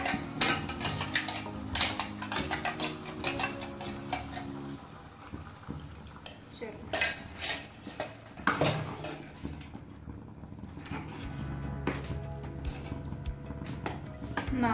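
A spoon scrapes and clinks against a pot while spinach is stirred into palak paneer gravy, irregular metallic taps and scrapes close by with soft sloshing between them.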